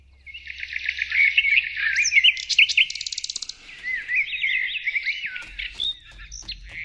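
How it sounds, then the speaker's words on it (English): Birds chirp and trill continuously in bright, busy bursts at Broken Bow, with a rapid run of repeated notes midway; a low rumble sits underneath at the start and end. "listen to the birds"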